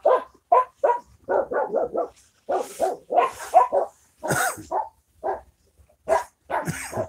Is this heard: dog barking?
yes